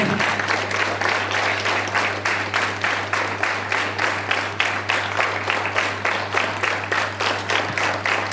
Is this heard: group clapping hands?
yes